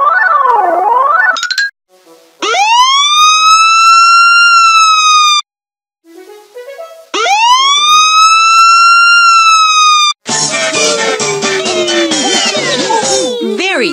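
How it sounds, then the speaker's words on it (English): A police car siren wails loudly and up close in long rising-and-falling tones, with a short gap between bursts, then gives way to a noisy, clattering stretch at the end. "A police car."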